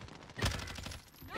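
A single KAR-98 sniper rifle shot fires in the Warzone video game, a sharp crack followed by a rolling echo.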